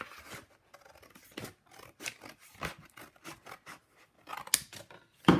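Scissors snip through a strip of watercolor paper in a quick series of crisp, close cuts with short pauses between them, ending with a louder rustle of the paper being handled.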